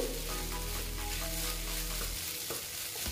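Eggs and okra fry in a pan with garlic and garam masala, producing a loud, dense sizzle heard close up. A low steady hum runs under it for the first two seconds, then drops away while the frying continues.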